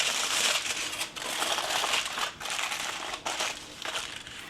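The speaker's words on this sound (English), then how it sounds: "it's just as simple as wrap it up in foil" Aluminium foil is crinkled and crushed around chicken into a packet for the grill, with a steady run of close crackling and brief pauses between handfuls, and nobody speaking.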